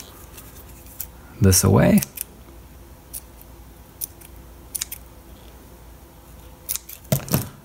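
Scissors trim thread on a sewn Ugly Doll while its facial features are stitched on: one short, loud cluster of snipping crunches, with a few faint clicks and a brief burst at the end, amid quiet talk.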